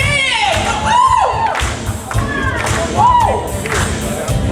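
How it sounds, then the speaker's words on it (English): A party crowd at a member appreciation event claps along to a song, rhythmic hand claps mixed with cheering, whoops and singing voices over loud music. "Come on, everybody, clap your hands!"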